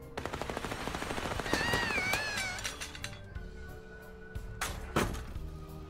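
Rapid bursts of gunfire with real bullets in the Little Misfortune video game, crackling in dense sequence over game music and chiming tones, then sparser, louder single shots near the end.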